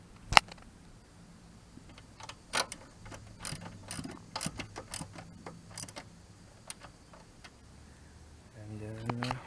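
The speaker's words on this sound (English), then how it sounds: "Now put back the screw that holds the airbox to the frame." A screw holding the airbox to the frame is driven back in on a 2002 Suzuki GSX-R1000 motorcycle, giving sparse, sharp ratcheting clicks and ticks, close and quiet, with some low mechanical rattling.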